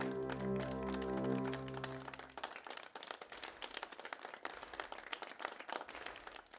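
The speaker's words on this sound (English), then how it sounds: "They clap at them like that" Tibetans clapping to drive out evil spirits, a crowd's scattered hand claps that take over as a sustained tonal chord fades, the claps irregular and closely packed, moderately near.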